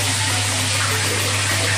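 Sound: hotel room shower running with strong water pressure

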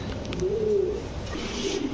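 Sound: pigeons cooing at a pigeon sale

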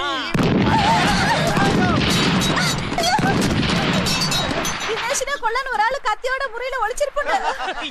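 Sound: firecrackers exploding

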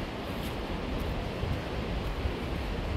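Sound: river flowing

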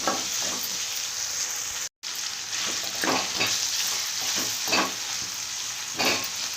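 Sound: onions sautéing in a pan for rice rava upma

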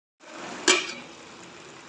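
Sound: covering cooking pot with lid

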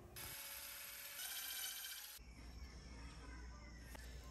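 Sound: removing silencer mounting screws on STIHL MS 382 chainsaw

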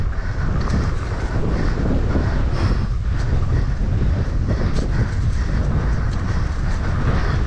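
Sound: wind blowing at a bike park

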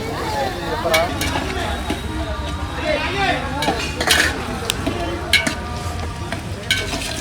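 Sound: onions frying with salt in a pan

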